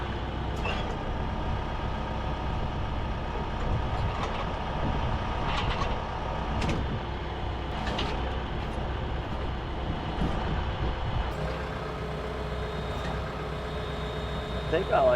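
A tractor engine idles and runs steadily while driving a hay tedder through a PTO shaft, a continuous low diesel rumble with faint mechanical clanks throughout.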